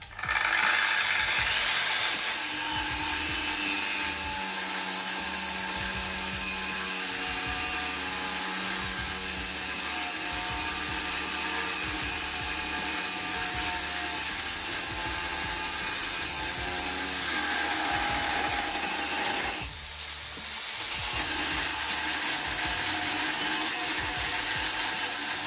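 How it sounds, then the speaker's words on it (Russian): A loud, continuous high-pitched whine and grinding of a Procraft angle grinder cutting sheet metal under heavy load, steady for a long stretch with a brief dip near the end. "Буду нагружать болгарку."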